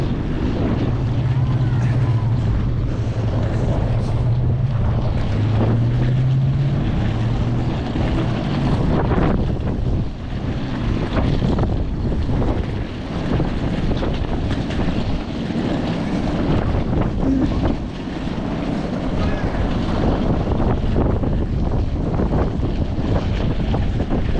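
Cold, hard wind at Oakland airport roars steadily and loudly across the microphone, a dense rumbling buffet that barely lets up for the whole stretch.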